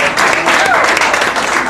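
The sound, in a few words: audience applause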